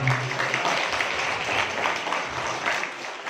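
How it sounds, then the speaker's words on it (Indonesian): Applause for alumni at a high school campus expo, a crowd of students clapping together in a hall, dense and steady with slight swells, alone without talk. "tepuk tangan khusus untuk alumni"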